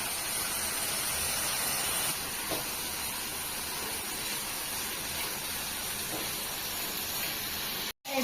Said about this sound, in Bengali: আমি ডিমটা এবার ভাইজে নিচ্ছি সুন্দর করে